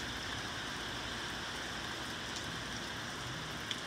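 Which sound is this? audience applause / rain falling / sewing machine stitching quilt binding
rain falling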